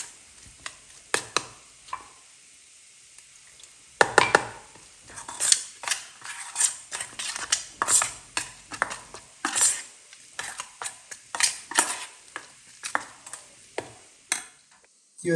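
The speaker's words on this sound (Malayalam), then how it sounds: "അല്പം വെള്ളം ഒഴിച്ച് നമുക്കിത് നന്നായി ഒന്ന് ഇളക്കിയിടുക." A spoon stirs thick spice paste for fish curry, loosened with a little water, in a bowl or pan: a run of light, irregular clicks and scrapes, quiet at first, then steadier and busier.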